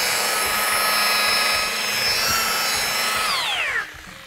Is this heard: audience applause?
no